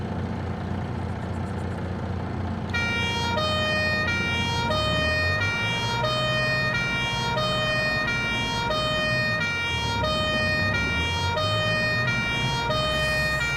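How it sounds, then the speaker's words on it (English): An emergency vehicle siren in Farming Simulator 22 wails loudly and steadily in a rising and falling pattern over a low engine rumble, close and continuous. "You can turn the siren on, but it's very loud, so watch this."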